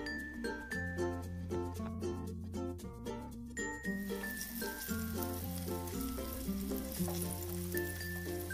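Oil sizzles steadily as battered squid fries, largely masked by louder background music with melodic notes throughout.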